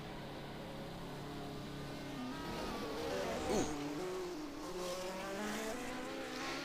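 A 1975 Formula 1 race car at Paul Ricard, heard from onboard as it suddenly loses control: a steady loud engine note with a brief rising and falling swoop in the middle, and a single short exclamation over it.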